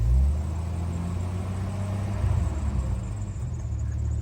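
A Jeep engine, said to have straight-piped itself, idles after a code reset with a steady, low, rumbling exhaust drone that stays even throughout.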